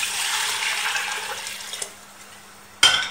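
Water pours steadily into a pot of golden-browned meat for a vegetable couscous, a continuous splashing rush that stops before a sharp metallic clank near the end.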